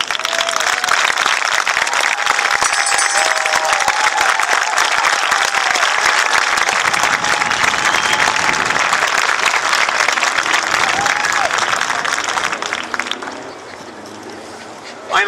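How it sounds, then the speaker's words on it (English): Crowd applauding military veterans at a Tea Party gathering in Madison, sustained loud clapping with scattered cheers and whoops for about thirteen seconds, then fading to quiet. "I'd like to ask all of them to stand up right now so we can give them a round of applause."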